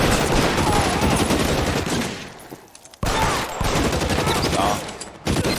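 Dense, loud gunfire in L.A. Noire, rapid overlapping shots forming a continuous barrage that briefly drops away and then resumes with equal intensity.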